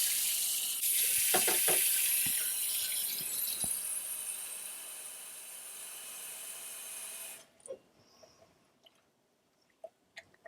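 Hot water gushes from a tap in a strong, steady hiss for about seven seconds and then stops abruptly, leaving a few scattered small clicks and knocks in a quiet room.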